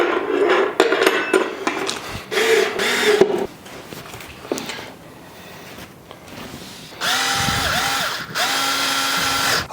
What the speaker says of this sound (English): this little Ryobi lithium-based screwdriver, it has very little torque to it